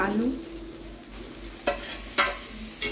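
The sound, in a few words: potatoes being stirred and fried in a pan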